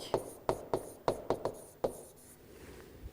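Sharp taps and strokes of writing on a classroom board, about seven distinct marks in an uneven rhythm, close and fairly loud, trailing off into quiet room tone.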